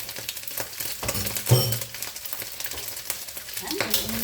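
Garlic hits a hot, smoking pan and fries with a steady crackling sizzle, stirred around with occasional scraping and a few louder pops, close and alone with no speech.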